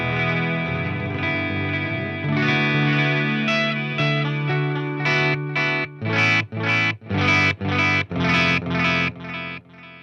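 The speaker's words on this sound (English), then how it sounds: "the digital delay" An electric guitar runs through the digital delay of a Walrus Audio Mako D1 pedal, with echoing repeats trailing sustained chords and then a run of choppy, rhythmic strums, and no voices.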